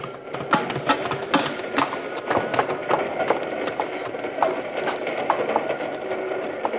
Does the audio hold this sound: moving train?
yes